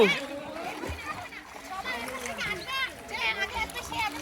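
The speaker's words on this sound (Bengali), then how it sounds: "দেখি সাঁতার দাও সাঁতার দাও।" Water splashes as people swim, heard faintly under steady, lively talk and children's voices in an open outdoor setting.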